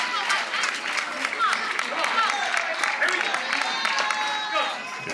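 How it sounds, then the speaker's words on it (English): A crowd at a pickleball match in Kansas City cheers and applauds continuously, a dense wash of clapping and voices at a steady level throughout. "You can hear the crowd coming alive here in Kansas City"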